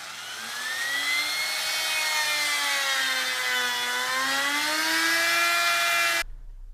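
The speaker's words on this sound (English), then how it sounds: "I put on the profile using a roundover bit." A router fitted with a roundover bit shapes wooden shoerail boards for a closed stringer staircase, giving a loud, steady high whine that shifts slightly in pitch for about six seconds and then stops abruptly.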